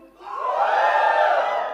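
A large audience at a POCO X2 smartphone launch in India roars with sustained cheering and yelling, rising quickly and holding loud and dense throughout without talk.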